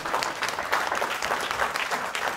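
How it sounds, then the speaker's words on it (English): A concert audience at an REI Live event gives a sustained round of applause, a dense steady clatter of clapping heard from close by, without any talking. "Let's hear a round of applause for everybody here."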